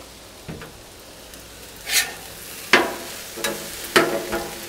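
Chicken fried rice sizzles on a Blackstone griddle as soy sauce is added, a steady soft frying hiss broken by several sharp scraping spatula strikes spaced about a second apart.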